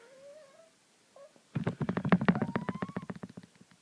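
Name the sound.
cat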